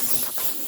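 Compressed air hisses steadily from a shop compressor's blow nozzle while clearing debris off a John Deere X120 mower deck, a continuous close broadband rush lasting under a second.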